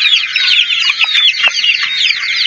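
A flock of month-old crossbreed broiler chickens clucks and chirps continuously, a loud, dense, close chorus of overlapping calls with no talking.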